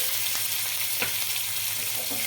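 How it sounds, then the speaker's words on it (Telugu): Continuous close sizzle of spices and chopped green chili frying in hot oil for tempering, a dense hiss with a few light pops, no voices. "ఈ పోపు అయితే మంచిగా ఫ్రై అవ్వాలి"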